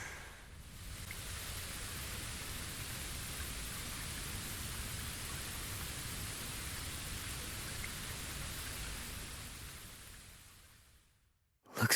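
Steady, dense rain pours in Bleach Rebirth of Souls, a loud, even hiss that holds without a break for about eleven seconds and then cuts off sharply.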